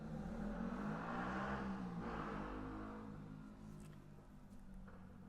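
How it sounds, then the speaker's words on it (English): A motor vehicle roars past nearby, loud at first and then fading as it moves away, with a steady engine rumble throughout. "there's that motorbike noise right there"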